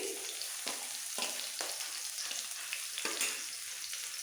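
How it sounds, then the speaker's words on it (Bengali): Chopped garlic, ginger and green chillies fry in hot oil as the base for a veg Manchurian gravy, giving a quiet continuous sizzle with several soft stirring scrapes. "একটু ভেজে নেব সাথে"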